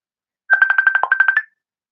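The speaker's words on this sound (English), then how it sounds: "Who is this calling on my phone?" A phone ringtone chirps in a quick electronic trill of about a dozen rapid pulses, loud and close, then stops, with silence around it.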